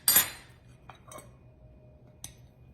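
A utensil scoops a piece of biscuit out of a metal pan with ham underneath: one sharp scraping clink at the start, then a few softer taps, close and otherwise quiet.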